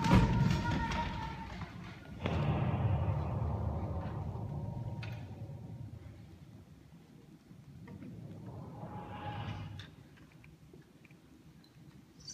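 A 32-pounder cannonball thumps into a bluff, a heavy dull impact followed by a second rumbling bounce and settling debris, fairly loud and close with no talk over it.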